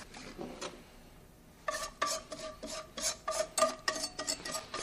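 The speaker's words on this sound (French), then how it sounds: "on peut à ce moment-là prendre un fouet afin de bien mélanger les derniers morceaux qui n'ont pas encore fondu" A whisk stirs melting caramel in a saucepan with close, rhythmic scraping and rasping strokes against the metal pan, first a few light strokes, then a short pause, then steady, quicker strokes.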